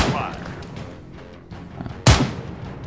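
Gunfire in the military shooter Arma 3 (Halo mod): a low rumble of distant shots, then one loud, sharp close report near the end, with faint voices earlier.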